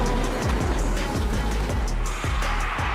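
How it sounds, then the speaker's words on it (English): A professional race car drifting at high speed on an airport runway, a steady loud roar of engine with tire noise and skidding throughout, close and continuous. "He's also a professional race car drifter, needing a full airport runway for his skills to take flight."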